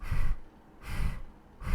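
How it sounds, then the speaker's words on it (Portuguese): A person in a breathing exercise takes breaths and pushes air out in short, sectioned bursts, giving three close, breathy pulses with brief pauses between them. "Depois eu posso fazer uma respiração onde a expiração é seccionada."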